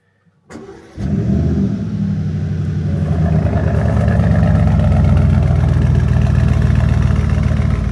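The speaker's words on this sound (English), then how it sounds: "All right, this is going to be a proper cold start." A twin-turbo 4-liter V8 in an Aston Martin Vantage cold-starts with a brief crank, then catches into a loud, steady, high-revving fast idle that holds and slightly builds, close up with no talk.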